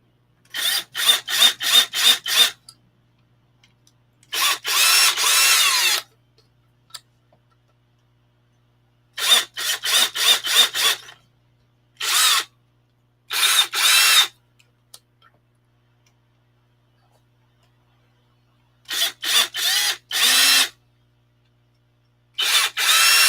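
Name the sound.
electric drill drilling plastic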